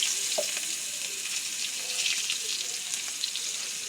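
Chopped onion frying in oil in a pan for a fish curry, a bright continuous sizzle with occasional crackles and light spatters close by, heard alone without speech.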